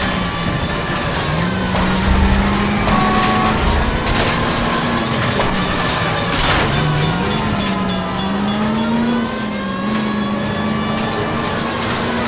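A 1940s Los Angeles streetcar races in an LA Noire chase, with a continuous loud engine drone whose pitch wavers and climbs, rumbling and rattling steadily throughout.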